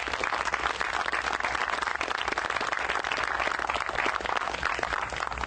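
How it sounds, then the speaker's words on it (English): A town hall audience applauds in steady, dense clapping that fills the room at an even loudness for several seconds, with no voices standing out. "So give those folks a big round of applause."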